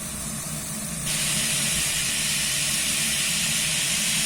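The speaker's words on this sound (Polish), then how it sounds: "Mięsko ładnie już nam się przypieka." Chicken meat sizzling in oil in a pan, a steady broadband hiss that jumps louder about a second in and then holds constant and close, with a faint low hum underneath.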